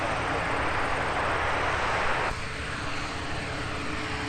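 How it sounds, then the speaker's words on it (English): Delta Air Lines Airbus A330-200 jet taking off, a steady loud broadband engine roar that drops slightly in level partway through, sustained and close, with no talk over it. "Delta 258, clear for takeoff to Dublin with a big A330-200"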